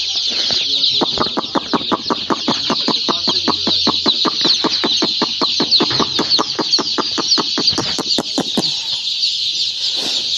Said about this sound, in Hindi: Silver golden चूज़ा।